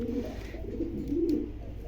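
Young Johnson-bloodline racing pigeons coo softly and throatily, low rolling calls repeating close by, with no talking.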